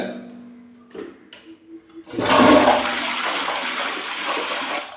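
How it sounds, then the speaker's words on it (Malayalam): A toilet is flushed after a cleaning treatment in a bathroom: a few soft clicks and handling knocks, then a loud rushing flush of water that continues steadily to the end. "ഇതുപോലെ ഒന്ന് ഫ്ലഷ് ചെയ്ത് കഴിഞ്ഞാൽ"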